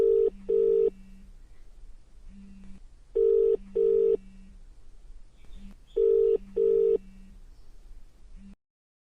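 An outgoing telephone call rings back in three repeated cycles, each a pair of short buzzing tones followed by a lower hum, clear and steady, then cutting to silence.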